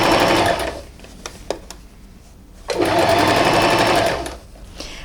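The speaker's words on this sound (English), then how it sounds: "I'm sewing fairly close to the edge." A sewing machine stitches close to the edge of a dress neckline in two steady, loud runs, separated by a quieter pause with a few small clicks.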